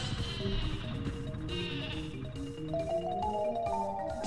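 Sheep bleats from the Sleepy Sheep item in the Paper Mario video game, a rising run of bleating calls layered over busy game music and effects.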